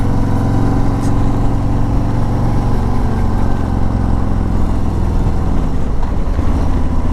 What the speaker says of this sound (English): Right now we're going 40 miles an hour. I'm in 4th gear, and the bike picks up strongly, even in 4th gear